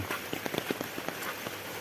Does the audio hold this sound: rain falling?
yes